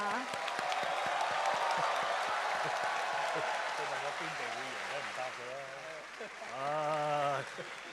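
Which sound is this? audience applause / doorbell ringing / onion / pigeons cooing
audience applause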